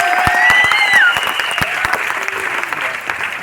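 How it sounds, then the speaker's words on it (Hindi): An audience at a sales seminar applauds with dense, continuous clapping. A voice briefly rises above it. "ताली बजाओ दोनों के लिए अच्छे से।"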